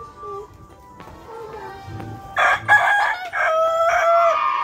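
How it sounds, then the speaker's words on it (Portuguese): A rooster crows loudly and close by, a harsh multi-part call after a few quieter clucks and faint background sounds. "É um galo."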